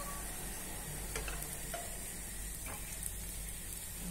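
Bread slices fry in ghee with a faint, even hiss, and a few soft scrapes and light ticks sound over the steady background.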